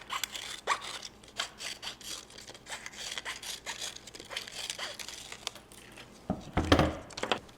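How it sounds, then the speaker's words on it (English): Scissors cut away the sharp edge of a plastic soda bottle with a string of close, crisp scraping snips, ending in a louder crinkle of the plastic. "And now I'll have to cut off this sharp edge."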